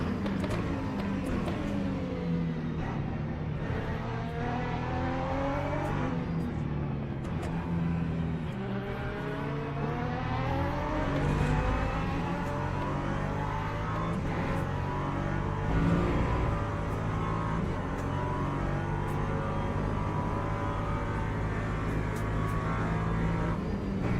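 LMP3 prototype race car in the Le Mans Ultimate sim at Silverstone, engine loud and continuous, climbing and dropping in pitch through repeated upshifts and downshifts as it accelerates and brakes around the lap.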